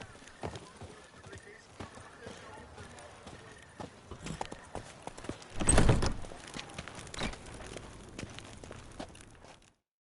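Horse Roach's hooves clip-clop at a walk in The Witcher 3, a steady, fairly close plodding rhythm with game voices speaking over it and a louder burst of sound midway.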